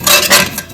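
Whole spices such as cardamom, black peppercorns, cumin, fennel seeds and crushed red chilies stirred in a hot pan, a loud, close scraping and rattling of utensil against metal lasting under a second.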